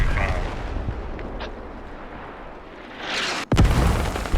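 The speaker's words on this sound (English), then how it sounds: "Oh, it was a super mortar." A super mortar shell detonates in the military shooter Squad, a sudden loud blast with a sharp crack and rumbling tail that breaks through steady background rumble and wind near the end.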